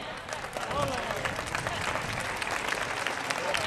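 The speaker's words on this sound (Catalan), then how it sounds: "Un aplaudiment." Applause from a crowd at a school parents' association spring market festival, a steady sustained clatter of many hands clapping that fills the whole stretch at moderate level, with voices murmuring underneath.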